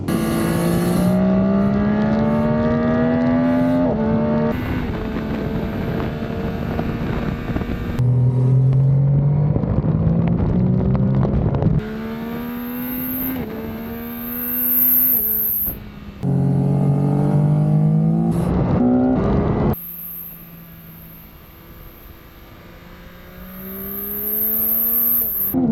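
A Yamaha R9 motorcycle rides hard around a racetrack, its engine revving up through the gears again and again, with short gaps at each shift and steady high-pitched whine throughout, heard up close and loud without talk.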